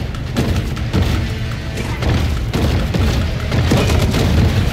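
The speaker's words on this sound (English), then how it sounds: "we got shot there" In the Maneater video game, heavy booming gunfire and impact thuds hit the player, loud and dense over a constant low rumble of game sound with no pause.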